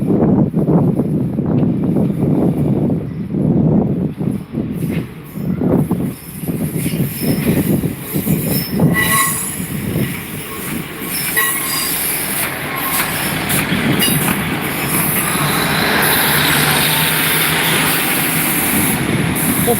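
A Class 150 diesel multiple unit passes at Lincoln, loud and close, its engine roar giving way to rolling wheel noise, rail clatter and a high squeal as the carriages go by.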